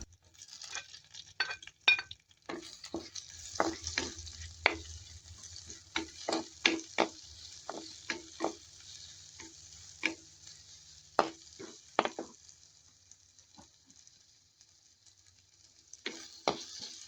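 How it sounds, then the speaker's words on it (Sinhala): Green chilies and onions are tempered in a pan for a Sri Lankan fish dish, with soft frying hiss under repeated sharp taps and scrapes of a spoon stirring, some pauses between. "ඊළඟට අමු මිරිස් ටිකයි ලූණු ටිකයිත් එකතු කරලා හොඳට ටෙම්පරාදු කරගන්නවා"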